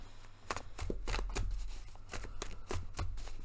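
Tarot cards shuffled by hand in a quiet room, a run of crisp riffling slaps and soft flicks repeating in quick bursts, close and moderately loud with a low steady hum underneath.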